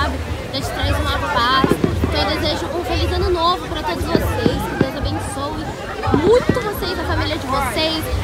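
New Year fireworks crackle and pop in scattered bursts, fairly distant, under constant crowd chatter and nearby voices talking throughout.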